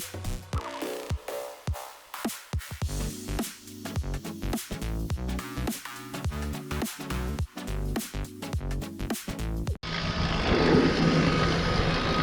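A rebuilt motorized bicycle engine revs hard on a test ride, a loud buzzing two-stroke drone with rapid rising and falling throttle bursts, ending in a sudden shift to steady rushing wind noise.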